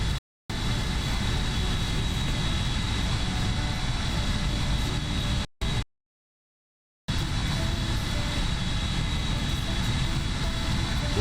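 Airbus A319 engines in the X-Plane flight simulator produce a steady broadband roar, loud and continuous, cut by two brief gaps of silence.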